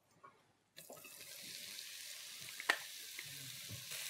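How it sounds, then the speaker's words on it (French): Onions cooking in olive oil in a cast-iron casserole for a saffron and cinnamon lamb tagine, a soft steady sizzle starting abruptly after a brief quiet moment and continuing fairly faint, with an occasional light clink. "et on va maintenant cuire les oignons."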